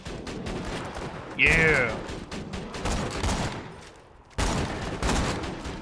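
Rapid turret fire and other gun bursts in Borderlands 2 crackle loudly in clusters, with a sharp high whine at one point, and a player briefly speaks over the action.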